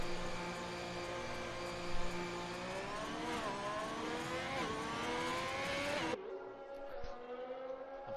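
Race car engines whine and rev steadily on track in an online racing game round set in France, rising and falling pitch as cars accelerate, then cutting abruptly to quieter background near the end.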